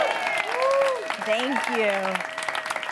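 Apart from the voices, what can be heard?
audience applause at a live comedy show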